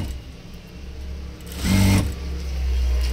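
Sewing machine stitching a hook strip on a blouse, a short burst of motor whir and needle rattle rising for about half a second, then a lower running hum, with no talk.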